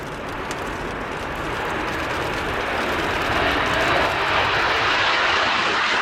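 McDonnell Douglas EAV-8B Harrier II Plus jet in a flying display at an airshow, a loud continuous roar of jet engine noise that swells slightly and holds steady throughout.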